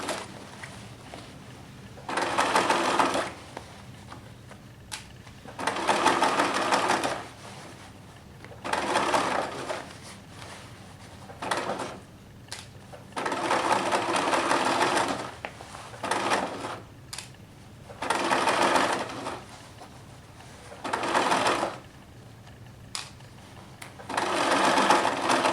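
A sewing machine stitching a set-in sleeve into a garment's shoulder seam, running in steady bursts of a few seconds each with short stops between, close and clear.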